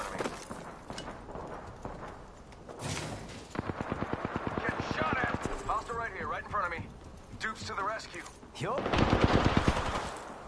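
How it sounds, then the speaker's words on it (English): Gunfire in the battle royale game Apex Legends during a ranked match, bursts of rapid automatic shots and single cracks mixed with other game effects, with a player talking over the action. "People shooting at me now."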